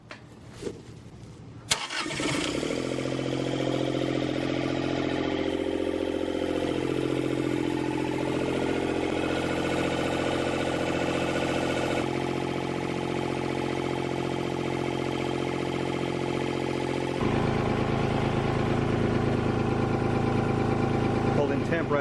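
A Kubota D722 diesel engine in a Bobcat MT50 starts after a head gasket replacement and settles into a steady, rumbling idle, close and continuous, with a slight change in tone partway through.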